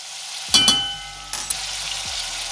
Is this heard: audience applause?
no